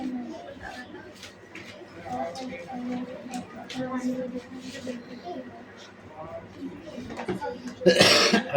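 Someone talks at length, then near the end gives a short, sharp burst of coughing that stands out loudly against quiet, close speech.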